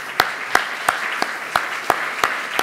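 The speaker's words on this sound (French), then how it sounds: "Écoutez, je crois que vous méritez nos applaudissements." Applause follows a presentation on an office tower's renovation, heard as a loud, fairly close series of about seven evenly spaced sharp claps, steady and rhythmic rather than a dense crowd roar.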